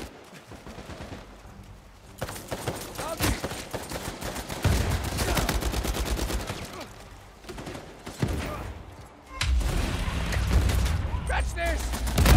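Video game gunfire from Uncharted: The Lost Legacy, including a heavily upgraded pistol, crackles in dense rapid volleys, loud and continuous, with voices heard alongside the shooting.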